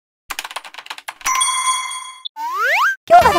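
Quick tapping clicks, then a bright ringing chime ding that holds and rises into a sliding boing-like tone, ending in a short burst; the sound effects play alone and loud, with no voices.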